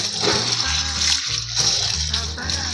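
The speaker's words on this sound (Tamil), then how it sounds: "அதுலேயே வச்சு நம்ம நல்லா சுத்தமாக கழுவிட முடியும் தண்ணி வடிச்சிடும்" Water gushing and splashing as ration wheat is washed in a sieve, with a loud running stream and rhythmic sloshing pulses of grain and water, and a person talking alongside.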